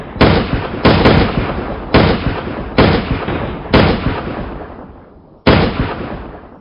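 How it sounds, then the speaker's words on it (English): Musket volleys in a fantasy audio story, about six loud sharp gunshots at irregular intervals, each with a long rumbling decay, with no talking. "The rest shot off their muskets, but it wasn't half as effective and made an awful racket."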